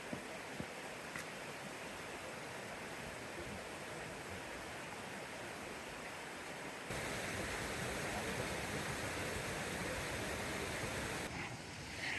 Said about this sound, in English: I'm just about to cross the stream that comes from this waterfall.